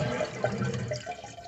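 A toilet flushes as the tank drains during repair of a leaking supply valve, a dense rushing, gurgling wash of water, steady and close throughout.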